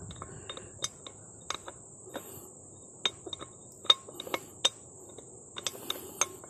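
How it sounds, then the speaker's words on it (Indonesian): Metallic clanks and ticks from under a worn-out Renault car at each gear change, a sparse series of sharp, fairly faint knocks at irregular intervals over a quiet background. "Oke, bunyi ketang setiap kali ganti gear."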